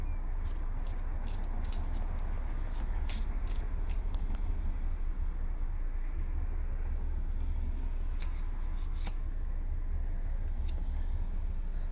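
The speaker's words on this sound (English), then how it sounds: "So, 3 more shuffles." Tarot cards are shuffled by hand in a quiet room, faint papery riffles and clicks coming in two short clusters over a low, steady background hum.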